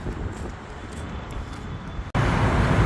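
Street traffic in Cairo rumbles steadily, with passing cars making a continuous wash of road noise that grows louder and rougher near the end.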